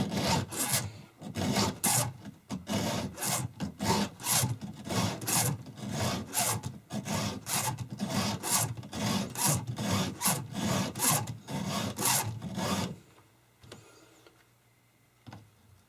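A hand file rasps across chainsaw chain teeth in a steady run of roughly twenty quick strokes, each a loud close scrape, stopping near the end and leaving a faint quiet tail.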